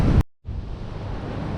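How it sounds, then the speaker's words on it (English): Steady rushing wind gusting over the microphone near a disused railway, a continuous roar that cuts out briefly near the start before blowing on again. "I'm trying to do this between great big gusts of wind"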